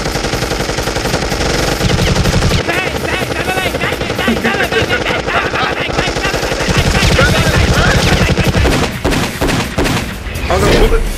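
Rapid machine-gun fire and layered gunfire bursts from a Deadpool vs Deathstroke Death Battle animation, loud and dense throughout with a brief drop near the end.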